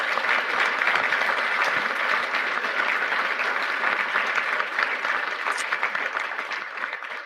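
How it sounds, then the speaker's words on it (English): Sustained audience applause for the kitchen ladies at a Q&A session, dense even clapping from a large crowd that carries on for several seconds and thins slightly toward the end. "would you please give a round of applause to all of the ladies who took care of the kids and did our meals"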